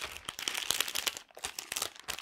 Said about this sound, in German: hier ist irgendwie eine Tüte mit Knöpfen und ich packe das mal da rein